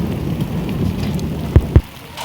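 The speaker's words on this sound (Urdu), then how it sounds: "شام کا ٹائم ہے اور بارش شروع ہے جی، اس کے بعد ژالہ باری بھی ہو رہی ہے۔" Heavy evening rain mixed with small hailstones pours down in a dense, steady hiss, with two sharp close thuds near the end.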